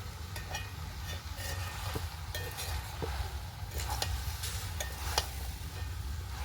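Pumpkin greens sizzle steadily in a hot pan while being stirred for a sole fish curry. A constant frying hiss runs under repeated scraping strokes of the spoon, close and fairly loud, with no talking.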